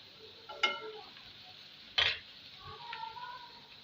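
Ketchup being stirred into chicken macaroni with vegetables in a pan, heard as two distinct scraping clinks of a spoon against the pan over a faint background sizzle, with softer stirring noises toward the end.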